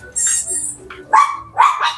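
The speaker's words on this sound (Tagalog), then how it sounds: "Pag may nakikitang aso talaga, ang ligalig nyo." Shih Tzu dogs bark excitedly at another dog, several short high yaps and yips close by in quick bursts, with a few pauses between them.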